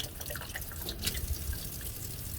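Water running from a tap over tumbled jasper and dirt-road rocks, a steady close trickle with soft drips and splashes, no talk.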